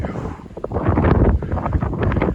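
Strong wind buffeting and whistling around the top of an antenna on a snowy mountain summit, loud and gusty, with rough rushing bursts swelling and easing throughout and no voices.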